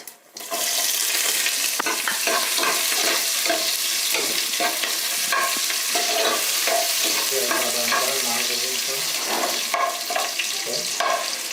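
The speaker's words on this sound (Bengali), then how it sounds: "পেঁয়াজটা সামান্য একটু ভেজে নেব" Onions fry in oil with cinnamon, cardamom, star anise, cloves and peppercorns for a goat meat curry. After a short quiet start, a loud, steady sizzle with frequent stirring clatter runs throughout.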